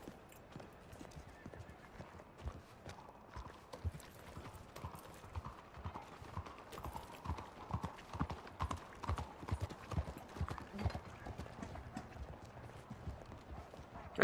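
Horses' hooves clip-clop along streets as a tabletop game sound effect, a quick, steady patter of many hoofbeats that grows a little louder midway, with no talking.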